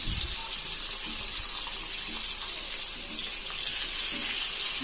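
Potato papad slices frying in hot oil, a continuous, hissing, watery sizzle with steady loudness throughout and no talking over it.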